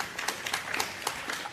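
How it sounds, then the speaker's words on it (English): A conference audience at a blockchain event gives a short round of applause, scattered claps in uneven bursts, moderately near and fading quickly. "round of applause"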